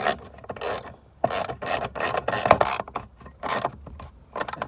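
A bolt on a trail vehicle is tightened with a wrench: close, rhythmic rasping ratchet clicks come in short repeated strokes with brief gaps between them.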